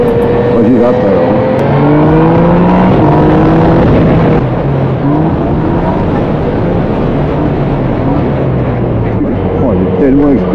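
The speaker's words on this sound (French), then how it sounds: "Oh, il est tellement expressif ce moteur" A 2018 Yamaha Niken three-wheeled motorcycle engine revs and drones steadily up close, pitch rising and falling through gear changes, with voices talking over it throughout.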